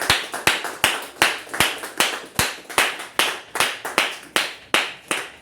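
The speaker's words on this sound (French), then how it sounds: "Donne une offrande d'acclamation." Sharp, evenly spaced hand claps at a church service, about three per second, close and loud, with no voices.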